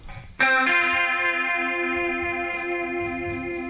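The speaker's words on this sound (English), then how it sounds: "Here's the guitar solo." A distorted electric guitar solo has a chorus effect and vibrato: one note struck sharply, then held and shimmering as it rings out.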